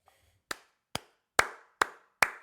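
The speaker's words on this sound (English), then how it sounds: "that's me clapping." A single person claps five times, sharp, dry, close-up hand claps spaced about half a second apart, standing alone in silence.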